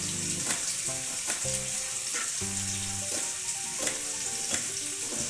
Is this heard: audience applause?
no